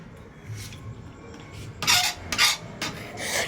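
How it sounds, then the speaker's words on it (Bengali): Green chilies chopped on a board, several quick, sharp rasping knife strikes in a cluster near the end, close and fairly loud over faint background noise. "মাঝখানে লঙ্কা কুচি হয়ে যাচ্ছে, ছ্যাক ছ্যাক ছ্যাক"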